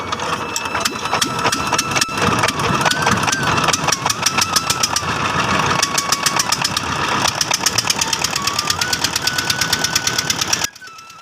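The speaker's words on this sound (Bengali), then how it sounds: "মাঝি তার স্যালো মেশিন স্টার্ট করে নিল এবং এই স্যালো মেশিনের মাধ্যমেই নৌকাটা চলে যাবে নদীর ওপারে" A shallow-pump engine on a twin-hulled river ferry boat starts and settles into a loud, rapid, steady chugging that runs close by for several seconds before cutting off.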